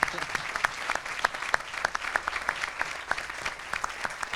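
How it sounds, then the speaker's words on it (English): Applause from a small crowd at an apartment building grand opening, distinct individual claps forming a brisk, uneven rhythm, fairly close and moderately loud. "So I'd love to give a round of applause to the First Realty team."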